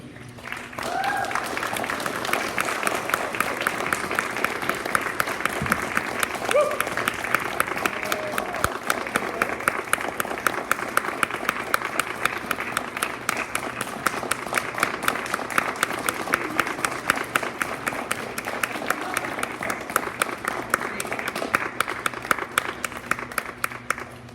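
A poetry festival audience in San José applauds after a reading, with loud, sustained clapping from many hands that later settles into a steady rhythmic beat and continues for over twenty seconds.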